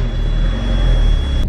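A Porsche 944 engine idles and hums steadily at close range as the car backs out, a low continuous rumble with a faint high whine running through it.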